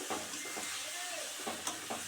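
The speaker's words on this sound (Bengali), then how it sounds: "তারপর বাঁধাকপিটা দিয়ে দিয়েছি বাঁধাকপি দিয়ে ভালোভাবে নাড়াচাড়া করে নিয়েছিলাম" Cabbage and potatoes stir-fry in a pan, giving a faint, steady sizzle broken by a few soft scraping strokes of stirring.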